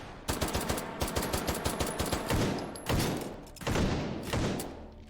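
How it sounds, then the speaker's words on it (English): Rapid video game gunfire from a bolt-action rifle loaded with incendiary rounds, a fast loud string of close shots in a steady rhythm, followed by a few heavier separate blasts. "That's some rapid firing action from Spirit there"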